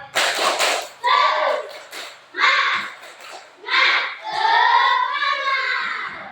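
A class of schoolchildren performing the rhythmic 'tepuk semangat' clap-and-chant, bursts of loud unison clapping alternating with children's chanting voices, close and energetic.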